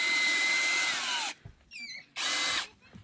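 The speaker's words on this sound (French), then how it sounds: "il faut que tu appuies sur le cul de la visseuse. Pour bien que ça perce." Cordless drill-driver drilling a hole while pressed firmly from behind, as part of converting a bus into a camper: two loud whirring bursts separated by a short pause with a faint squeak and clatter between.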